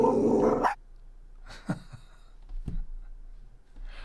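A dog barks once at the start, a short loud burst close to the microphone, followed by quieter scattered household sounds and faint thuds in a home setting.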